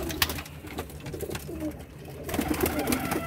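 Pigeons in a loft housing about 70 to 80 paired birds coo softly and repeatedly at close range over a busy, rustling background.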